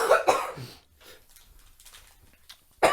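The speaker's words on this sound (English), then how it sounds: "Don't cough on the camera." Two loud coughs close to the mic open and close a short stretch, with faint muffled voices and shuffling in the quiet gap between them.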